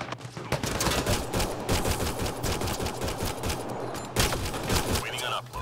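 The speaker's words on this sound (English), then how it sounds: "Enemy fire." Enemy gunfire in an online Mass Effect Andromeda match rattles in rapid automatic bursts and sharp volleys, fairly close and steady across the stretch, with voices partly under the shooting.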